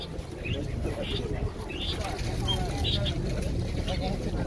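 Pigeons coo and birds chirp at the market fair in Kropotkin, soft calls rising over a busy hum of crowd noise and nearby chatter.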